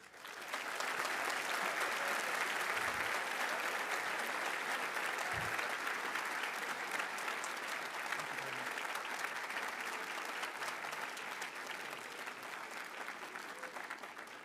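A large audience applauds steadily at the Cushing Academy 2023 commencement, a dense sustained wash of clapping that starts abruptly and continues for the whole stretch before easing slightly toward the end.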